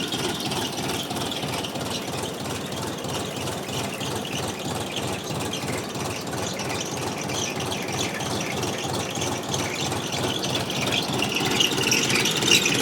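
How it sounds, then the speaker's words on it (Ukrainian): A DTZ 354U tractor engine, still being run in, chugs steadily at a low, even idle while pulling a conveyor potato digger, with rhythmic rubbing and scraping of machinery throughout. "ДТЗ-354У похрокує і робить свою роботу"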